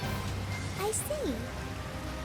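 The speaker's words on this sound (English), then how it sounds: "It just started pouring all of a sudden." Sudden pouring rain in Persona 5 Strikers makes a steady, even hiss while a voice speaks over it with rising and falling tones.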